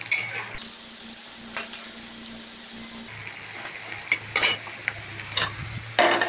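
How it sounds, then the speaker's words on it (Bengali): Peanuts fry in a pan for a Bengali kochu shak dish, with a soft steady sizzle under repeated scraping and clinks of a spatula against the metal, stirring in short bursts. "বাদামটা একটু লালচে লালচে করে ভাজবো, যাতে পুড়ে না যায়"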